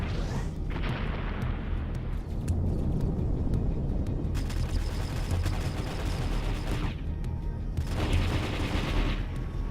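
Missile fire and explosions in the video game The Outer Rim: Survivor, dense loud booming and rapid crackling bursts filling the clip, with two sharper bright surges of firing in the middle and near the end.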